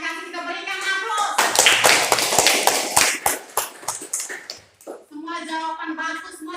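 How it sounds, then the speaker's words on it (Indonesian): Students applaud in a classroom, a burst of dense clapping lasting a few seconds, with voices talking before and after it. "Kita berikan aplaus."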